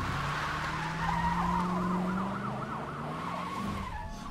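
A wailing ambulance siren sweeps up and down over a steady car engine drone in the driving game The Crew, both loud and continuous through city traffic, with no talking.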